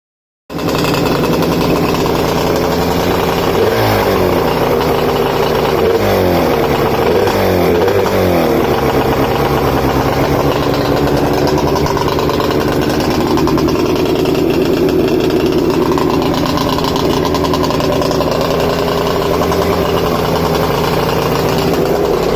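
A Caracruiser boat's engine runs steadily after its reeds were reseated and carbs cleaned, a loud continuous motor drone with a rough, throbbing rhythm that holds for the whole stretch with no talk.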